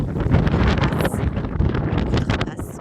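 Wind gusts buffet a microphone outdoors in the countryside, a loud, continuous rumbling roar with rustling texture and no talking.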